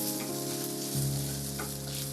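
Onions with coconut frying over a medium flame in a pan for a Karwar village chicken curry, a continuous close hiss and sizzle with occasional stirring scrapes, alone without talk and with a steady low hum beneath.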